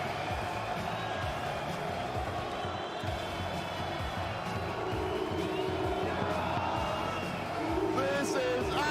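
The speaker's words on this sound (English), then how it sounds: "The crowd loves it." A packed arena crowd at the IEM Rio Major Counter-Strike event cheers for Furia, a continuous roar that swells toward the end, with a commentator talking over it.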